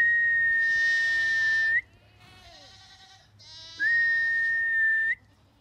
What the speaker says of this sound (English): We have big goats.